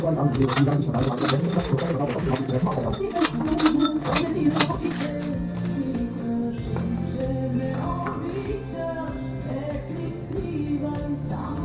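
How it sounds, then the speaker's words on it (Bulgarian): An impact gun runs down the long new bolts during a full engine rebuild on a 2016 BMW F15 X5 M50d, giving a continuous rattling hammer close by while someone talks over it. "С пистолета само ги прибираме додолу."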